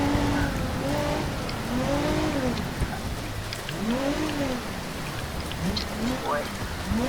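Steady rain hiss in BeamNG.drive on a flooded map, a constant wash of falling water running the whole stretch, with a car engine's rising and falling tones and a voice talking over it.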